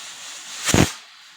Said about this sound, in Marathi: तिथं आपली कुकरची शिट्टी झालेली आहे